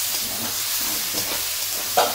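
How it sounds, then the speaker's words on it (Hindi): Garlic fries in a pan while Bengali-style chicken is prepared, giving a steady, soft sizzle and hiss with faint stirring scrapes close by, no talking over it. "लहसुन फ्राई हो"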